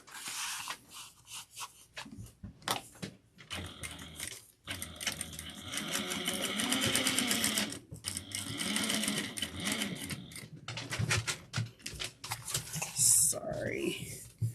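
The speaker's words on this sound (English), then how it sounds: "start basting this in place." A sewing machine runs in uneven stretches while basting fabric, its rapid whirring stitches starting and stopping with brief pauses, with some soft talking and handling noises mixed in.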